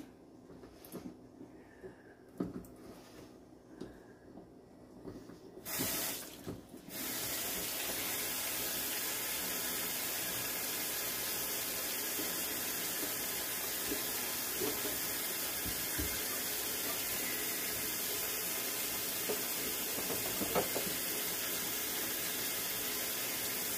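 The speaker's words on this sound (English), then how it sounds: "we're going to turn on some cold water" A few quiet knocks and clatters, then a faucet opens and water pours steadily into a sink for a long, unbroken stretch.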